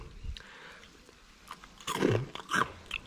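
Crisp Thai fried banana fritters in a cooled batter coating are bitten into and chewed close up, giving a few soft crunches and chewing sounds with no talking.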